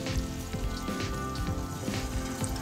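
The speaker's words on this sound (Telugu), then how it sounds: "చూడండి ఆయిల్ హీట్ అయింది కదా, ఇప్పుడు మనం ముందుగా ప్రిపేర్ చేసుకున్న బాల్స్ని ఇందులో వేసుకోవాలి" Cabbage Manchurian balls dropped into heated oil and deep frying over a medium flame, giving a steady, dense crackling sizzle with bubbling pops throughout, close and alone without voices.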